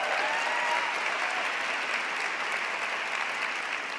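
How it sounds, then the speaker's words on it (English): Steady, dense applause from a large conference audience, loud and continuous throughout with no voices over it. "How about a round of applause for our incredible Mariam Monsef?"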